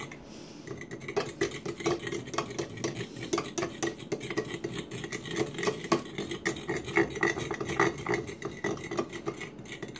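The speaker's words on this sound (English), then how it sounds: "you use a fork to whisk eggs" A fork whisks eggs and milk in a bowl, giving rapid, steady scraping clicks against the bowl, close and fairly loud, continuing for ten seconds without talk.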